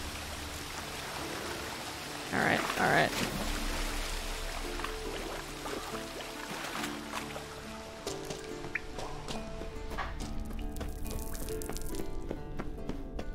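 A waterfall in The Witcher 3 pours in a steady wash of rushing water with some dripping and trickling, and a voice speaks briefly over it.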